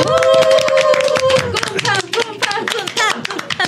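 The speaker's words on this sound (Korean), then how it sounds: "박수 한번 칠까요?" People at a small gathering about a coffee festival clap their hands for a guest, a lively run of many overlapping claps that thins toward the end, with a voice speaking over it at the start.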